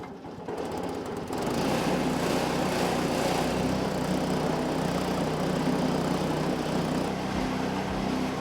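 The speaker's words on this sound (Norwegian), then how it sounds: "RS80 vedkløveren drives av en 4-takts Lifan 168F-motor." A four-stroke Lifan 168F petrol engine runs a REMET R-80 branch wood splitter. It starts and settles into a loud, steady, buzzing idle close by, with no voices over it.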